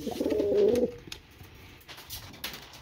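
Pigeons cooing close by, one soft, throaty burbling coo in the first second, then quieter rustling and faint sounds.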